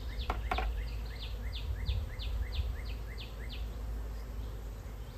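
Smoked honey bees hum softly around an open hive, a low steady drone with a couple of sharp clicks near the start and a faint rhythmic chirping above.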